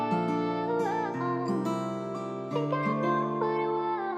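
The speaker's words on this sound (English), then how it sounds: "you'll usually find like a delay or echo type effect" A synth or guitar-like melodic line in a hip-hop beat with a delay echo effect applied, its notes smearing and repeating into each other continuously with no voice present.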